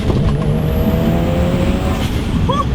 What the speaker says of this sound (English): He has full race equal length headers with a Perrin exhaust, and it sounds absolutely amazing.